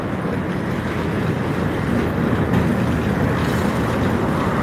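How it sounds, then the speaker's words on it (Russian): Tram number 18 in Odesa rolls past on Akademicheskaya Street, a loud, steady rumble and rattle of wheels on rails that stays continuous and close throughout, with no voices. "Тут 18-й трамвай ходит."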